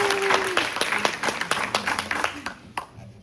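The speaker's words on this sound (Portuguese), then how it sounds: "Palmas para a Mara mais uma vez" An audience at a talk applauds a speaker with a burst of clapping that starts strong and thins into scattered individual claps. A brief tone fades out at the beginning.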